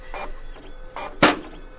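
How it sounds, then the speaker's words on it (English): An old office printer churns out tickets with a few separate whirring, grinding mechanical passes, the last one louder and sharper, and no voices. "They're printing, okay?"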